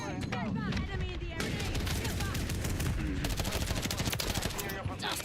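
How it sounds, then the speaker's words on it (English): Mortar strike and heavy gunfire in the video game Modern Warfare III multiplayer, dense loud continuous shooting with booming impacts throughout, under game chatter and voice lines. "That was a mortar strike."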